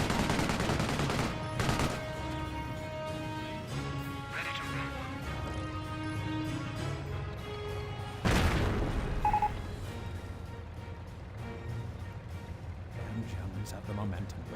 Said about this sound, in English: MP40 squad engaging the scope rifle squad, forcing them back.